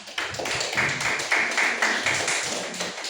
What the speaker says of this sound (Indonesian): Tepuk tangan untuk wanita-wanita.